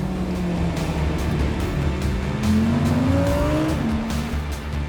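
A McLaren 720S Spider sports car drives on a mountain road, its engine droning loudly and steadily, rising in pitch as it accelerates, with a faint tire whine over the constant roar.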